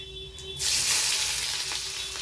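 Onion and garlic are tipped into hot oil with cumin and mustard seeds, setting off a sudden loud sizzle that stays bright and steady, with faint stirring scrapes beneath it.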